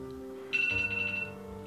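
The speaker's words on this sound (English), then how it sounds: "my alarm was going off there" Phone alarm chiming faintly in a room, a short, bright electronic tone that sounds briefly over a low background hum.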